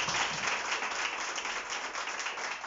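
A church congregation claps together in a dense, steady wash of applause that fills the space evenly for a few seconds, with no voices standing out.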